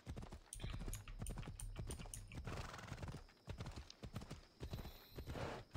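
Steady, rapid horse hoofbeats clip-clop continuously at close range, with a horse whinny heard along the way.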